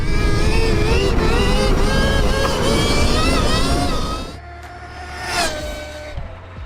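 A Stark Varg EX electric dirt bike rides hard, its motor whining through rising and falling pitch sweeps, loud and close, then easing off before another brief surge.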